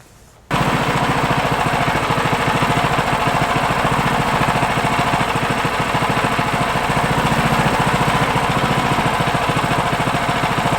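A 2022 Simplicity 10/24 snow thrower engine kicks on after a brief pause and then runs loud and steady at full throttle, a dense constant mechanical drone with fine rapid pulsing, very close with no voices.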